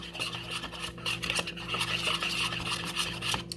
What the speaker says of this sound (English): Just make sure you whisk it till it whisks all together.